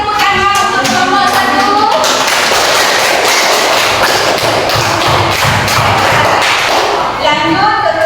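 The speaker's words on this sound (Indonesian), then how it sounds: "Kita kasih tepuk tangan untuk kelompok" A class gives a round of applause for group 1: a burst of quick, loud clapping and thumping that swells in the middle, framed by voices before and after.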